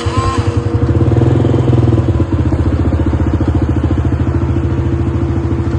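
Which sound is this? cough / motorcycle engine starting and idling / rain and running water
motorcycle engine starting and idling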